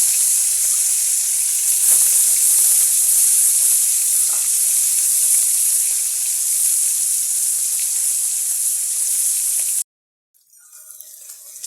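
Salted pond fish frying in hot oil in a wok gives a loud, steady, dense sizzle for nearly ten seconds before cutting off to near silence with a faint hiss.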